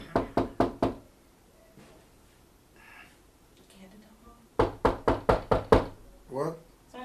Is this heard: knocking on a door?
yes